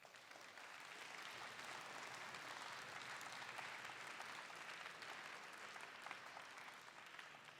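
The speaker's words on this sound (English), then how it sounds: "Give yourselves a round of applause for that." Steady crowd applause at the Franklin Technology Center dedication, a full, even wash of many hands clapping that holds for over seven seconds at a distant, faint level.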